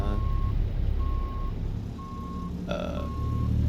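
Truck reversing alarm in American Truck Simulator: four evenly spaced electronic beeps over a low rumbling engine, moderately quiet, with a brief hiss-like burst between the later beeps.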